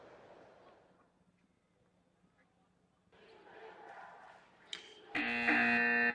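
A buzzer blares loud and sustained as time expires at the end of a 1972-73 Milwaukee at Los Angeles basketball game, following quieter court noise and a short rising crowd swell.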